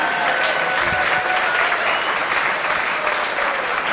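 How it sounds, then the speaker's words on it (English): An audience at a presentation at Marchman Tech College breaks into loud, sustained applause and cheering, a dense clapping wash filling the room with no talk. "sometimes when there's loud cheering like that, I close my eyes so it's not as loud"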